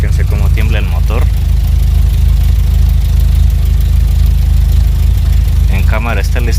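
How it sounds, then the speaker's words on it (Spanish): A 2.0-litre VW Jetta A4 engine idles with a cylinder misfire, a loud, steady low rumble that runs throughout, with a person talking briefly at the start and again near the end. "Y chequense cómo tiembla el motor."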